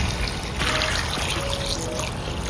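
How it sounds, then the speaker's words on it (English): Cold water pours over slit olives in a container, giving a steady close trickling and splashing stream at an even level for a couple of seconds, with no voices. "I've slit the olives and I'm adding cold water."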